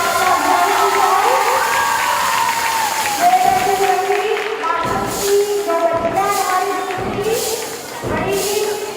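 Crowd cheering, shouting and clapping at a girls' school annual sports event, loud and close, with children's voices and amplified speech mixed in throughout and bursts of applause recurring.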